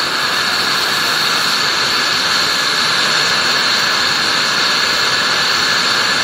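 A MAPP gas torch, nearly empty and below its fullest setting, melts gold with borax. Its flame gives a loud, steady, close roaring hiss that holds unbroken throughout, with no voices.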